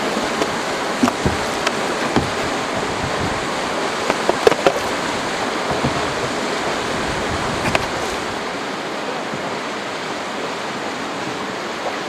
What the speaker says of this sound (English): I know I don't want to go into that white water